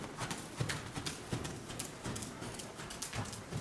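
A ridden horse's hooves clip-clop along a trail in a steady walking rhythm, fairly close, over a soft outdoor background.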